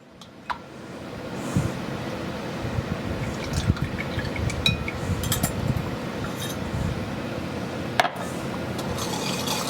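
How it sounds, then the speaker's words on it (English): Heavy cream pours into a mint chocolate chip ice cream base, a steady close liquid fill with soft drips and a few light clinks of a utensil against the bowl, no voices. "And then I'm going to add 2 cups of heavy cream."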